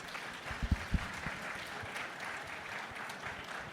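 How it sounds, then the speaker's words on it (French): A conference audience applauds its speakers at the close of a session on autonomy services, a steady wash of clapping that stays fairly quiet and even, with a few sharper thumps near the start. "Je propose qu'on applaudisse nos intervenants"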